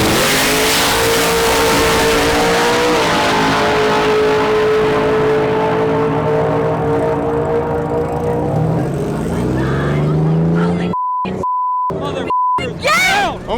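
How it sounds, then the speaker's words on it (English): A Nissan GT-R drag racing down the track in the left lane, a loud close engine scream climbing through several gear changes with shifting pitch, then cut by sharp beeps and a brief burst of noise at the end. "Murray Stanley, left lane, the GTR"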